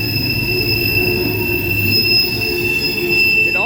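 A CSX empty coal train of hoppers creeps slowly past at about 15 mph, its wheels squealing with loud, sustained high-pitched tones over a steady close rumble, with no talking.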